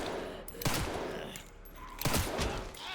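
Rapid bursts of gunfire from the video game Resident Evil 9, loud and close in two clusters separated by a short lull, with dense sharp shots over a low background rumble.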